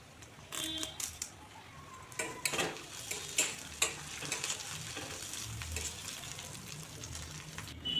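Curry leaves drop into a frying pan with turmeric for a sour-spicy puti fish dish. A soft, steady sizzle runs under scattered clinks and stirring taps, all fairly faint.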